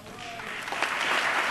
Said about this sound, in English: Just a few stray Republican claps.